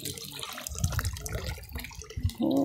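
Clean drinking water runs and trickles at a spring in the Khosrov forest near Havuts Tar, a close, steady gurgling flow with drips and no talking.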